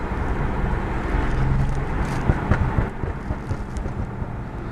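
A car engine with a cylinder misfire revs toward 3000 rpm, a rough, uneven rumble with irregular thumps and pops standing out midway, fairly close and with no one talking.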